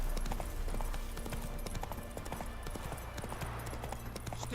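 Roach the horse gallops through The Witcher video game world, a steady rapid clip-clop of hooves running continuously over low game ambience, close and fairly loud throughout.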